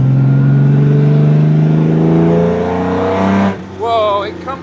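A 1950s Jaguar D-type racing car engine revs hard up close, a loud rising multi-toned roar that climbs steadily, then drops off as the throttle closes, followed by a brief burst of talk.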